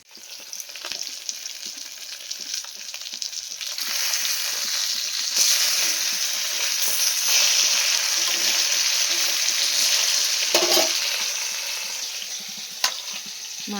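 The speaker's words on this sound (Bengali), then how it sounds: "মাছ ভাজা হচ্ছে" Fish sizzles steadily in a hot pan in a home kitchen, a continuous close hiss of frying that carries on unbroken for the whole stretch, with no voices over it.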